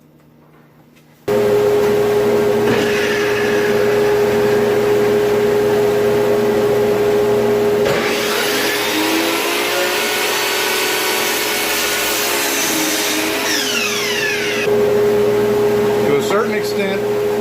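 A dust collector vacuum starts abruptly and roars steadily with a constant hum during biscuit joint woodworking on a candle stand top, with a louder grinding burst from the biscuit joiner in the middle.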